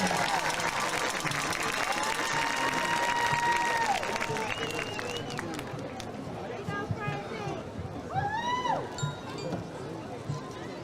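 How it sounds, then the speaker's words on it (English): A stadium crowd at a Texas High Tigers versus Jacksonville Indians high school football game applauds the Texas High Steppers, with steady clapping and crowd noise throughout and whistle-like tones and chatter mixed in. "How about another big round of applause for the Texas High Steppers?"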